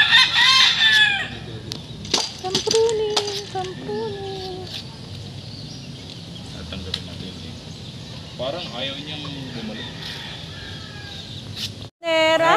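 Chickens on a farm cluck and a rooster crows loudly near the start, followed by scattered softer clucks and calls, with people talking in the background.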